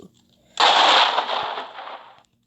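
A single explosion in the sandbox game WorldBox, a sudden loud burst that rumbles on and fades out over about a second and a half, alone with no talk.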